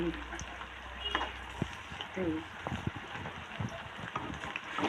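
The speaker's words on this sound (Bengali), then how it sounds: "প্রত্যেকটা বড়ার আকারে সুন্দর করে লাল লাল করে ভেজে নিতে হবে।" Raw banana kofta balls deep frying in oil, a continuous bubbling sizzle with occasional clinks and scrapes of a utensil against the pan, close and moderately loud.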